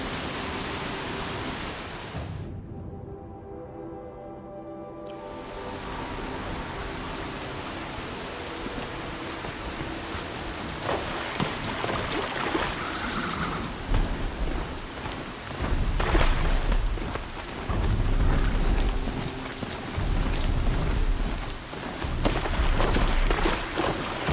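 A storm pours heavy rain in a continuous dense roar, briefly dropping away near the start before resuming, with deeper rumbling swells rising in the latter half.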